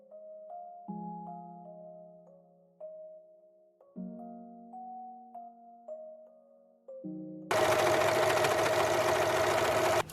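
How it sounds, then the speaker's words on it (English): After several quiet tones, a serger overlock machine stitches across the edge of thrifted bedsheet fabric for a wrap dress, a dense, even mechanical whir that runs steadily and close to the end. "I'm just going to serge across this edge so that I have a nice clean edge"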